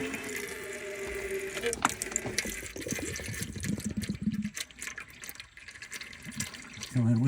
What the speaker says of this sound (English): I'll let that flow, and I'll do the filter with that other pan when that oil gets down there.